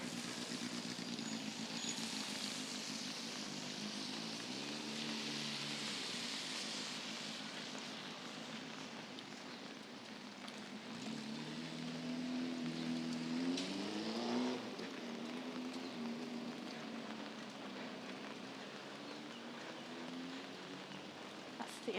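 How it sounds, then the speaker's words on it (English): Light rain falling on a street in Bedok, Singapore, a faint, steady wash of drizzle with cars passing and swelling at times through the quiet, distant street noise. "It's now also raining a little bit more."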